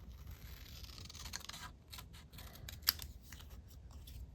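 Scissors trimming paper for a journal craft, a few quiet close snips with a soft crisp cut near the middle.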